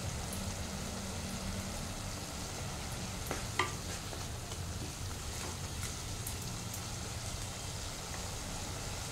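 Cabbage with hilsa fish head frying in a pan with oil and green chili, giving a steady, even sizzle throughout, with a brief clatter partway through.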